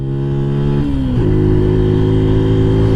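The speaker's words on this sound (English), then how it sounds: "Full throttle. Trying to get up to the speed of traffic." A mini moto motorcycle engine runs at full throttle, a loud, close, sustained buzzing drone that dips briefly in pitch as it shifts, then climbs and holds steady, with no talk.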